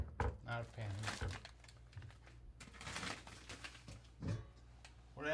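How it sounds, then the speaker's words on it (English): Plastic bags of farm-raised shrimp crinkle and rustle as they are cut open with kitchen scissors, in several close crackling bursts while a person talks over the handling. "the first thing we're going to do is cut the bags open"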